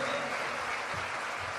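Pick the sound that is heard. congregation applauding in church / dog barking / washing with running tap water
congregation applauding in church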